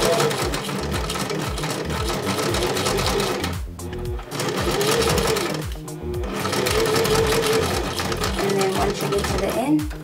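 A sewing machine stitches a straight seam with rapid, steady mechanical chatter, running continuously with two brief pauses where it stops and restarts, loud and close.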